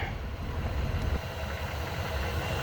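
An old Ford F100 engine idles roadside after a revival, a low steady rumble with a slight uneven lope, fairly close and without voices.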